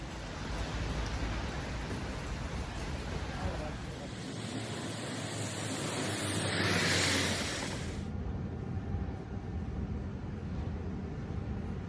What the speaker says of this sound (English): it's raining, as you can tell